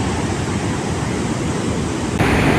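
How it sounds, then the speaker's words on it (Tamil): A river swollen by monsoon rain rushes past at Theni Palayam in Tamil Nadu with a loud, steady, unbroken roar of water filling the whole scene and no voices. "மழை காலனால தண்ணி வந்து அதிகமாக போகுது"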